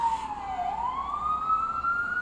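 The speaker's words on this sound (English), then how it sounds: "I think that siren is validating what I'm talking about here" A distant wailing siren dips in pitch and then rises slowly, sustained over a soft background hum.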